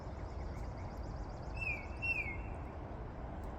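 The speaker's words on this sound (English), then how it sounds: "You hear that bird?" A bird singing the same two notes, two short clear whistled phrases close together, faint over steady outdoor background noise and a distant insect-like buzz.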